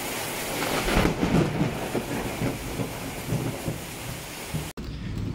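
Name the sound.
heavy rain with thunder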